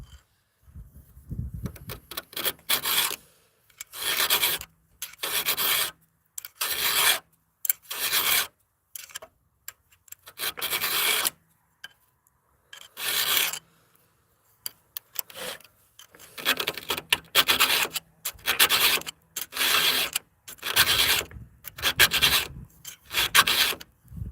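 Chainsaw chain filed by hand, a file rasping in a steady run of short, separate strokes with brief pauses between them, close and fairly loud with no voices.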